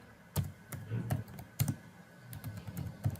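Computer keyboard typing in short bursts of clicking keystrokes, fairly close and moderately loud, with irregular pauses between groups of taps.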